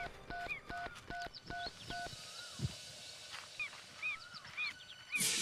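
A quick series of keypad tones dials a number in a jungle, followed by faint, quiet line noise with a few distant animal-like calls.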